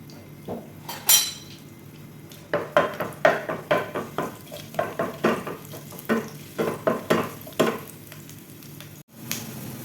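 Garlic and ginger fry in a pan, with a steady soft sizzle under repeated sharp scraping and clinking strokes of a spoon or spatula against the metal.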